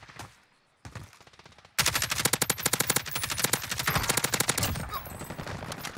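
Call of Duty gunfire in Verdansk: a brief pause, then sustained rapid automatic bursts, loud and close, rattling steadily for several seconds before tapering off.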